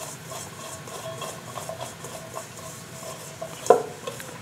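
Vegetables being stirred in a pot for potato soup, soft scraping and rustling with a sharp metallic clink near the end.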